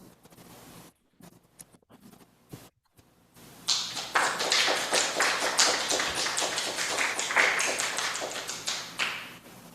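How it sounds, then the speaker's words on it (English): An audience at a live poetry reading claps after a poem. The applause starts abruptly after some faint shuffling, stays full and steady for several seconds, then thins out. "You don't have to clap after everyone, but it's so wonderful that you do."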